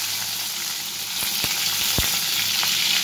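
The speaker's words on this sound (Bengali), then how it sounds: "এখানে আমি আগে সিমগুলো একটু ভেজে নেব সুন্দর করে" Flat beans fry in white oil tempered with nigella seeds, a loud, continuous sizzle with several sharp pops and light knocks as the pan is worked.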